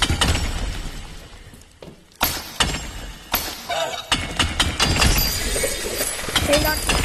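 Crates are broken open in the video game Animal Company with a series of sharp cracking, shattering hits in irregular bursts, mixed with game sounds and a person talking.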